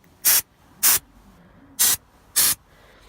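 Aerosol air freshener sprayed onto a removed Recaro seat from a Honda DC5 Integra, four short, loud hissing bursts in an even rhythm with quiet gaps between them, no talking.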